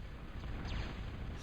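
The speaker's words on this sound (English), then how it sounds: "So, yeah, that commander's lucky to be alive. That explosion." An explosion in the real-time strategy game Total Annihilation during a 2v2 match with artillery fire, a dense, loud rumbling blast filling the short stretch at steady volume, with no talk.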